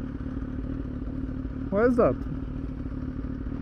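A motorcycle exhaust rumbles at a steady idle throughout, holding a constant low drone while a person briefly asks a question partway through.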